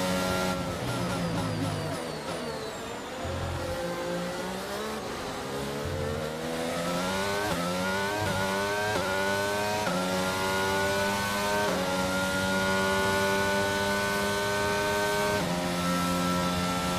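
F1 race cars in the video game F1 22 at Abu Dhabi roar close by, engine pitch repeatedly climbing through gear changes as the car accelerates, loud and continuous with no talk.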